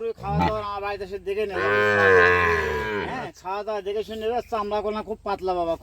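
Sahiwal bull calves at a cattle market moo loudly and close by: one long drawn-out low call followed by a run of shorter, broken moos.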